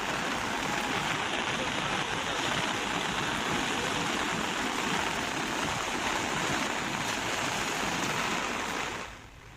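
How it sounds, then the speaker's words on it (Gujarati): Floodwater of the Mohan and Vira rivers swollen after heavy monsoon rain, a loud, steady broadband rush of fast-flowing water holding constant throughout before dropping off at the very end, with no speech. "મોહન નદી વીરા નદીનું રૌદ્ર સ્વરૂપ જોવા મળ્યું છે"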